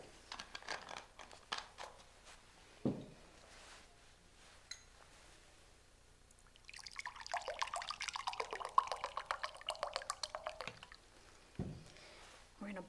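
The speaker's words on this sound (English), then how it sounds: "we're going to add to that 3/4 of a cup of warm water" Warm water pours into a container at a kitchen-table science experiment, a soft, faint splashing and trickling lasting a few seconds, with light clinks and handling noise around it.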